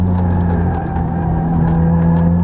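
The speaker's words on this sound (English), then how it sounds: "And squeeze the throttle now. Upshift." A Ferrari F430 engine pulls under throttle on a track, a loud, steady, sustained drone from inside the car.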